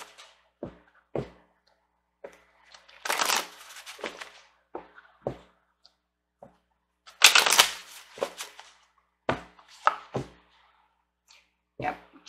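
Angel oracle cards are shuffled and drawn in short, separate bursts of papery riffling, soft taps and thumps, close and quiet, with silent gaps between them.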